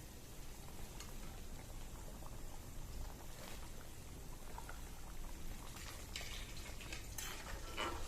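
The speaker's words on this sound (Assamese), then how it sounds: "এতিয়া এইখিনি আকৌ উতলিবলৈ দিম।" Fish curry with broken potatoes simmers in a pot, a steady low bubbling hiss that runs evenly throughout, with a few faint clinks and stirring scrapes near the end.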